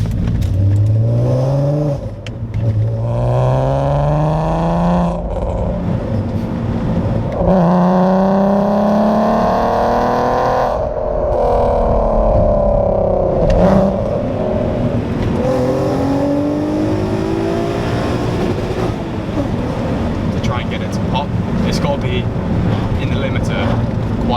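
Heavily modified VW Golf R32 engine revs through rising and falling gears while driving, a loud, close drone with repeated climbs and drops in pitch over wind and road noise.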